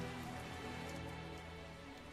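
Rain falls in the video game Tales of Zestiria as a faint, steady patter, with a low hum of background ambience running beneath it and no speech.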